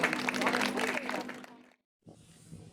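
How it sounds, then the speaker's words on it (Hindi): Listeners at a Hindi poetry recital break into loud applause, a dense crowd of clapping hands for under two seconds, then a brief silence before faint room sound returns. "जीवन में एक बार जोरदार तालियां हो जाए भाई अरविंद शर्मा।"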